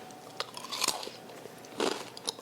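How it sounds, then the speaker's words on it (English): Someone bites into golden, crispy homemade sourdough discard crackers, giving two or three sharp, close crunches followed by quieter chewing crackle. "Did you hear that crunch?"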